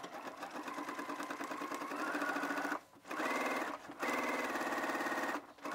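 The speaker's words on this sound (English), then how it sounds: "we're gonna go ahead and do our gathering stitches on the top edge of the skirt front and back" A sewing machine runs long gathering stitches along the top edge of a skirt, a steady close whirring hum broken by two brief pauses before it starts again.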